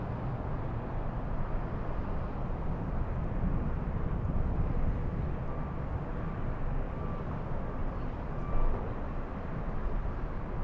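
Jet airliner rolling for takeoff on runway 24 left at LAX, a steady broad low roar sustained and fairly even throughout, heard from a distance without voices.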